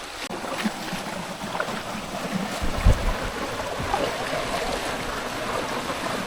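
Swollen forest stream on the Boalia trail, rushing steadily in a broad, continuous wash of water noise close by, with no talk over it.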